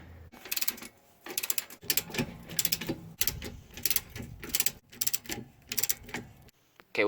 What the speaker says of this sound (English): So we'll do one at a time, but let's undo those bolts